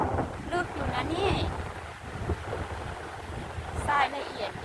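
Onshore wind blowing across a sandy beach at rising tide, a steady rushing buffet on the microphone with surf beneath, while people talk over it.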